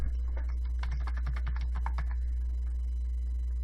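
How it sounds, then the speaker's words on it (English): Someone types an email and password on a computer keyboard, a quick run of light key clicks over a steady low hum, followed by a short quiet stretch. "You're going to start by typing in your email and your password."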